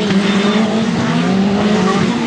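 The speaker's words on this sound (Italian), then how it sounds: "allunga il fondo rettifilo con il suo proto motorizzato Lancia 2000 Turbo" Lancia 2000 Turbo-powered prototype race car at full speed down the straight, a loud, steady, close engine roar holding a high tone throughout with no pauses.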